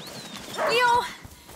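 A hunting dog in the video game A Plague Tale: Innocence gives a brief, rising whimpering yelp close by, with faint outdoor ambience and light movement around it.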